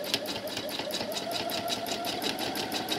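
A sewing machine stitches free-motion quilting spirals in a fast, steady, evenly pulsing run, close and continuous for the whole stretch.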